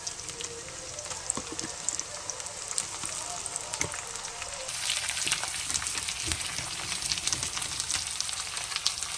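Jackfruit pieces dropped into hot oil tempered with garlic, a close crackling sizzle that grows noticeably louder and brighter halfway through as the pieces hit the pan, with scattered pops throughout.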